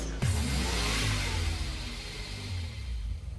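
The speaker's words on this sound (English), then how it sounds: "This Cruze is powered by a direct injection 2-liter turbocharged 4-cylinder diesel engine." A 2014 Chevrolet Cruze with a direct-injection 2-liter turbocharged four-cylinder diesel accelerates hard, a steady loud engine drone rising in pitch across a few seconds with no talk.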